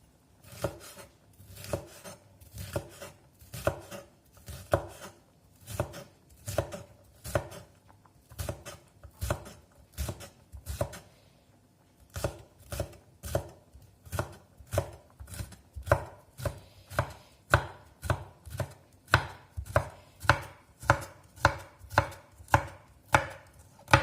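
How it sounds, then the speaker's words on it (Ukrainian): Steady knife chopping of a red pepper on a cutting board, rapid rhythmic strikes repeating throughout with a brief pause midway, close and clear with no talk. "докришую червоний перчик"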